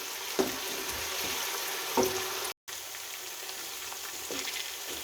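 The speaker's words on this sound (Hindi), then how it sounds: "1 मिनट तक मज़ीद भूनूंगी" Ginger and garlic fry in a pan with a spoonful of water for kofta curry, giving a steady, moderate sizzle close by, with a couple of light utensil clinks and a brief dropout midway.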